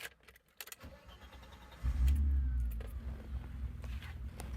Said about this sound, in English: let's start it up and tune our idle-ini